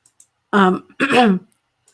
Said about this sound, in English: She's still clearing her throat.